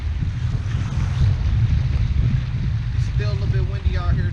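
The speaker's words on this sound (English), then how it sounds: "Still a little bit windy out here too" Steady wind blows outdoors, buffeting the microphone with a constant low rumble, with faint tonal sounds drifting in near the end.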